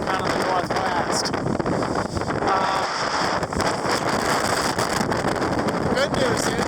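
Strong gale wind roars steadily across the microphone at sea aboard a sailboat under a triple-reefed main, loud and continuous, with someone talking over it.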